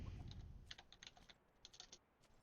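Fingers type on a computer keyboard in a series of quick, soft, close clicks in two short bursts with a pause between them, and no one talks.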